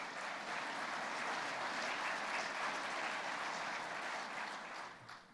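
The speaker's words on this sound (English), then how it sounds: "That's an applause." Audience applause at a firefighters' union legislative conference, a dense, sustained clapping from a large crowd that holds steady and then fades out near the end.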